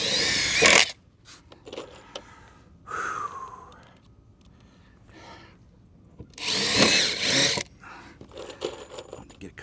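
During a deck repair, a power drill drives screws into deck boards in two short, loud whirring bursts, with someone talking in the quieter stretch between them.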